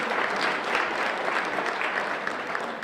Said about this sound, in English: Give Guy Tomasi a big round of applause, please.